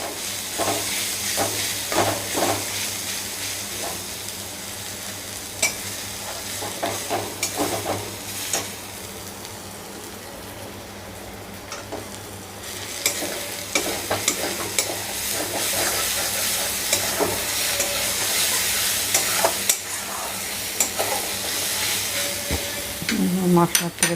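Garlic and spices frying in oil in a pan for a loyitta fish bhuna, a steady bright sizzle running throughout with scraping stir strokes, growing livelier in the second half.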